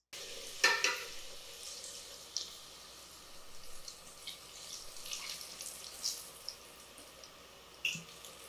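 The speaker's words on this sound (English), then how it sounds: "According to the recipe, I'm supposed to put these in hot oil for 5 minutes." Mozzarella sticks frying in hot oil, a faint steady sizzle and crackle with scattered pops and light stirring clicks, heard close with no talk.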